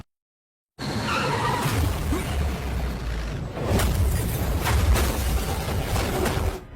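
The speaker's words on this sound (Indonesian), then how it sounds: "Di tempat lain, mobil Pitel ditabrak oleh preman yang dibayar oleh Krishna." Car rammed by another vehicle in a film crash scene: after a moment of silence, a loud sustained roar of engines and skidding tires, with sharper impact bursts and crunching in the second half.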